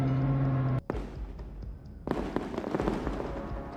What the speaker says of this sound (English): The Bradley opened fire with its 25mm cannon, striking the tank again and again.